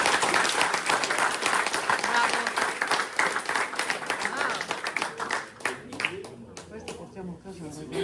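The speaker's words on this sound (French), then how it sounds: "On peut applaudir" Audience applause at a gift-exchange ceremony between the twinned communities of Saint-Julien and San Giorgio Monferrato, dense steady clapping that thins out toward the end, with voices talking over it.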